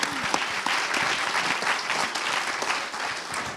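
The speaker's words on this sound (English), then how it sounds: "Give a big round of applause to our entire panel, by the way." An audience applauds a panel at a talk on the future of work, dense steady clapping filling the room throughout at a fairly close, even level.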